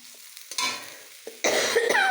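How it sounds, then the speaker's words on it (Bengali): Bitter gourd fry stirred in a pan over a low flame with very little oil, giving soft intermittent scraping strokes and a faint sizzle, the stirring growing louder and steadier toward the end. "এবার হালকা হালকা করে নাড়বো কম ফ্লেমে"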